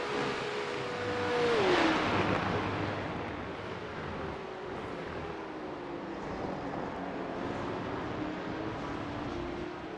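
Porsche Cup race cars battle on track at Aragon, engines roaring loudly as one car sweeps close past with a falling engine note, followed by a sustained broad engine drone from the pack.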